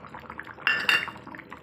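Ginger-garlic paste goes into a pot of boiling chicken curry with two quick metallic clinks of a spoon against the pot. A soft bubbling simmer continues beneath.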